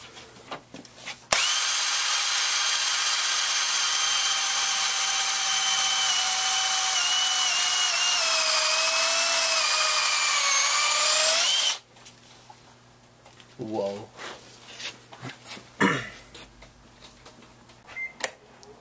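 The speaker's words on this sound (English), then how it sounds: "Mike is drilling a hole in a golf ball." A power drill bores a hole in a golf ball, a loud, sustained whine running about ten seconds with pitch sagging slightly under load, then cutting off abruptly to quieter scattered clatter.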